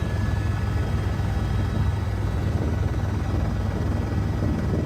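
A helicopter flies over the Great Ocean Road in Australia, its rotor chop and engine making a loud, continuous, rumbling drone from close by.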